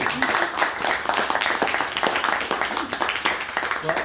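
Listeners at a poetry reading break into close, lively applause, a dense rattle of individual claps running throughout, with voices mixed in under the clapping.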